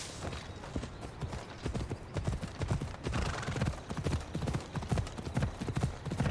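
Horse hooves clip-clopping at a steady trot in Assassin's Creed Odyssey, rhythmic close thuds that run throughout, with faint ambient noise underneath.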